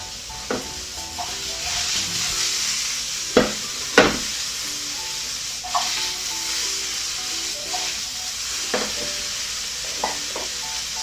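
Sweet potato sizzles in a frying pan with a steady, bright crackle, broken now and then by sharp clinks and scrapes of stirring.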